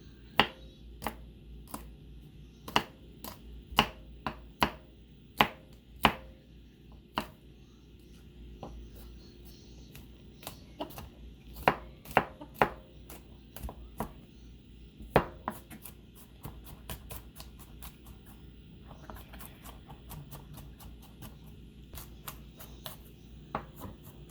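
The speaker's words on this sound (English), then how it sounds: "So we're gonna mince the garlic for the dish later" Garlic minced with a knife on a cutting board for chipotle chicken pasta, close sharp chops falling in quick irregular bursts, some louder strikes standing out, with no talk over them.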